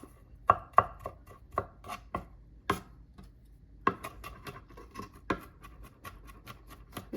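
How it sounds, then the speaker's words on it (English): Knife dicing garlic cloves on a cutting board for an oven-baked Jamaican-style curry chicken, sharp close chops in an irregular run of about a dozen strikes, some quick pairs, with no voices. "dicing the garlic, and then we're going to mince it"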